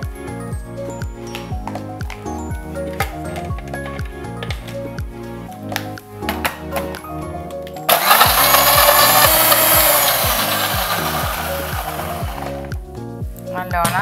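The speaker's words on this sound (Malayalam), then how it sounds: "200 ഗ്രാം പാല്, ഇതെല്ലാം കൂടി നല്ലോണം മിക്സിയിൽ അരച്ചെടുക്കുക." A kitchen mixer grinder blends dates with milk, ice cubes and sugar into a milkshake, a loud, steady whirring roar that starts partway through and runs on, following a stretch of rhythmic background music.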